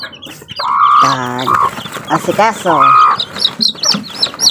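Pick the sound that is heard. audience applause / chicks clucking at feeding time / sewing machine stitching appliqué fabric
chicks clucking at feeding time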